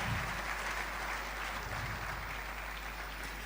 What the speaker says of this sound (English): A round of applause one more time for Mrs. Sonika